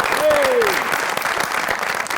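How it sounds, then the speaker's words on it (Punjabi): A studio audience at a Punjabi comedy show breaks into dense, sustained applause, with a brief rising vocal whoop near the start. "ਉਹਨਾਂ ਲਈ ਵੀ ਜ਼ੋਰਦਾਰ ਤਾੜੀਆਂ ਹੋਣੀ ਚਾਹੀਦੀਆਂ"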